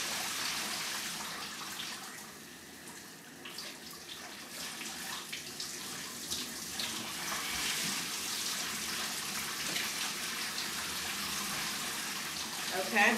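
Cold water from a shower or tap runs steadily over wet curly hair during a rinse, a continuous close hiss and splash lasting throughout with little change.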